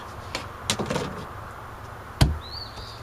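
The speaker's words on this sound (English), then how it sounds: "now we're going to put the door up here one more time, make sure she fits." Wooden shed door being fitted into place, a few soft knocks and scrapes followed by one sharp thud, close by in a quiet workspace with no talk.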